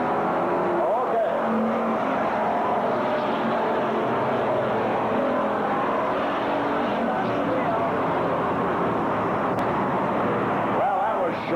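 Race cars roaring around a WISSOTA dirt speedway at North Central Speedway after the green flag, a continuous loud engine drone with passing surges, overlaid by a track announcer's voice.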